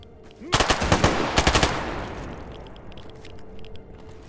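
Rapid bursts of gunfire from a gun in the video game STALKER: GAMMA, about a dozen loud sharp shots in two quick volleys, followed by a fading echo and faint ambient noise.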